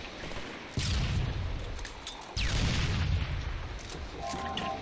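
Rocket explosions and gunfire in Halo 3 multiplayer: two heavy booms land about a second and a half apart, each followed by a rumbling tail, over steady background gunfire.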